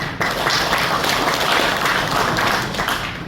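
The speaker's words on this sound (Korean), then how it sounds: "자, 박수로 맞아주시죠." An audience at a Seocheon hometown exchange gathering claps to welcome an investment team leader to the stage, a brisk, even burst of close clapping that fills the moment and tapers slightly at the end.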